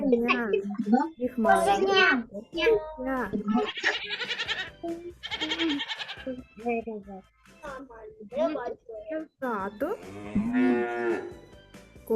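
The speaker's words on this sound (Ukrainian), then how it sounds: "Теля, теля, теля." A calf moos several times in drawn-out, bleating calls, fairly loud and close, alternating with people talking, including what sounds like a voice.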